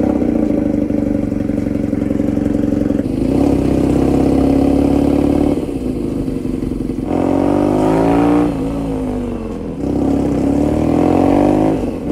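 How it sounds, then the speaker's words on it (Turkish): A BMW R nineT motorcycle engine starts and settles into a throaty idle, then revs up a few times before dropping back, loud and close. "Marşımıza basıyoruz."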